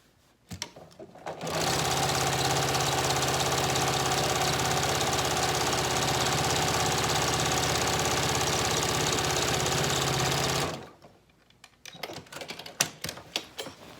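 A sewing machine runs steadily while stitching a seam on a scrap bag: one loud, continuous mechanical whir lasting about nine seconds, heard alone, then stopping abruptly into quiet handling noises.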